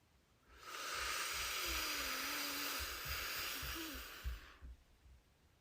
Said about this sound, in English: Go ahead and take a deep breath in.